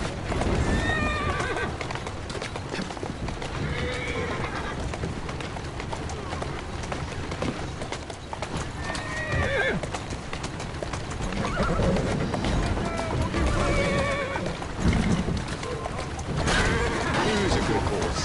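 Horse neighs and whinnies repeatedly over steady clip-clopping hooves in the video game Assassin's Creed Syndicate, a dense continuous game soundscape with someone speaking briefly now and then.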